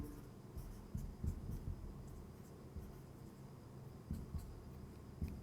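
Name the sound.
writing by hand during a maths lesson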